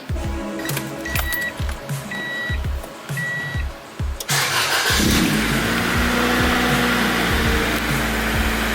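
An Acura Integra inside a garage: scattered clicks and knocks, then a loud, steady engine roar starts about halfway through and keeps running as the car is driven out.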